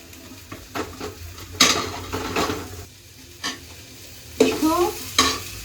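Spices and ingredients for brinjal masala curry frying in a pan, with bursts of sizzling and scraping stirring strokes that come and go over a few seconds, close and moderately loud, with no talking.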